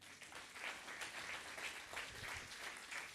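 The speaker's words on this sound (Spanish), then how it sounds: "Dale un aplauso al Señor." A church congregation applauds, a steady mass of clapping at moderate distance that pulses slightly in rhythm and carries on without pause.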